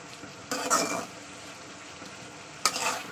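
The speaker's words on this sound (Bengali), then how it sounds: "আমি আমার শুধু এরকম কন্টিনিউ নাড়তে থাকবো" Yardlong beans fry in an uncovered pan and are stirred with a spoon, giving two distinct scraping bursts over a constant soft sizzle, close by with no talking.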